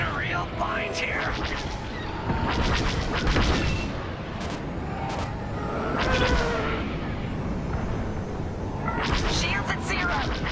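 Starfighter laser fire and explosions crackle in a Star Wars: Squadrons dogfight over Yavin, with repeated bursts of rapid shots and rumbling blasts over a constant engine roar, under pilot radio chatter.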